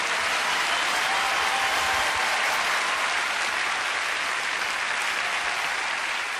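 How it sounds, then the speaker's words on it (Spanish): Sustained, dense applause from a concert audience at a tribute show, steady and loud from start to finish with no pauses. "Un aplauso para don Raúl Velasco."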